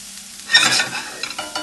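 Garlic and scallions hit a hot oiled pan for a chickpea burger, a sudden close sizzle and stirring scrape that flares up then settles into softer crackles and spatula taps.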